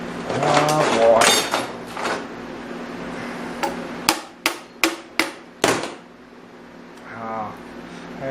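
A screwdriver is jammed in to pry the sealed tank lid off a Maytag 72DA washer, giving a run of five sharp, close metallic knocks mid-clip. Someone talks before the knocks and briefly near the end.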